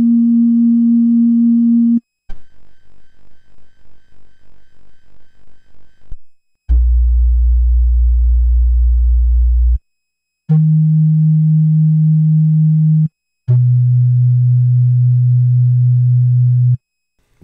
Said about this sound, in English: Let's play some simple sine wave notes and see what they look like.